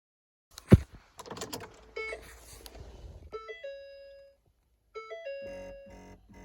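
A bright electronic doorbell-style chime rings out in two separate bursts of sustained tones, each following a rustle of clicks and knocks, fairly close and clear with no talking.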